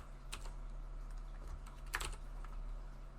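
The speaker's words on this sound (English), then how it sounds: "Typing would be good." Quick, irregular keystrokes on a computer keyboard during C# game coding, close and fairly soft over a steady low electrical hum, with a few sharper taps standing out.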